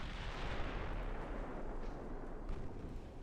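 Naval gunfire from high-explosive shells in the warship battle game Ultimate Admiral Dreadnoughts, heard as a dense, continuous roar of booming blasts and rumble with no clear gaps, fairly distant and steady throughout.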